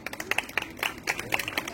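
At a welcome event where former students greet new ones at a university, a small crowd claps for a deputy student coordinator, sharp uneven claps in quick bursts that come close and clear.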